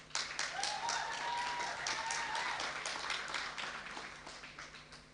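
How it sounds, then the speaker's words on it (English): At a secondary school graduation ceremony, an audience gives a round of applause for Mr. Brown, a quiet, fairly distant patter of clapping that swells briefly and then tapers off. "Can we get another round of applause for Mr. Brown?"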